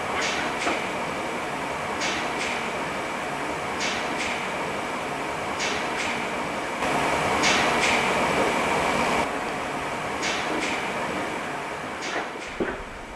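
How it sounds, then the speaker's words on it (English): An early Express Lift motor room, where electromagnets step the carriage floor selector, gives sharp clicks at an even pace about every second and a half over a steady mechanical hum. "The audio that you can hear in the background is actually from an Express Lift motor room. You can hear the electromagnets turning the carriage floor selector."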